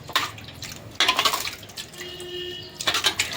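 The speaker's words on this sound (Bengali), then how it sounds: "আমগুলো ধুয়ে নেব।" Raw green mangoes are washed in water, making close splashing and sloshing in short bursts with drips between them, and no voices.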